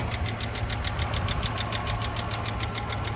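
A damaged 5.7 Hemi V8 in a salvage-auction Jeep Grand Cherokee idles with a rapid, even ticking over its rumbling engine note, loud and close, with no talk.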